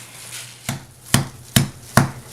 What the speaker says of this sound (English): So I am just pounding this out until it's about 3/4 of an inch thick